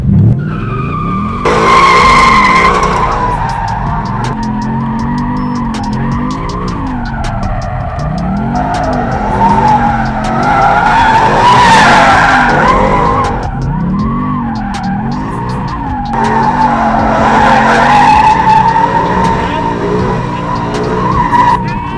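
Tires of an RTR-built car skidding and squealing loudly under a roaring engine, in repeated long slides that rise and fall close by.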